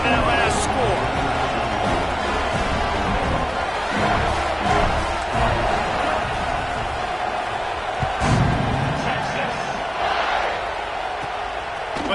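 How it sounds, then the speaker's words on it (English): A football stadium crowd keeps up a loud, continuous roar and buzz after a touchdown, with a sports commentator talking over the din throughout. "this crowd is buzzing after that last score"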